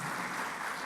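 Brief burst of audience applause at an agribusiness programme event in Brazil, a dense wash of clapping heard alone for under a second.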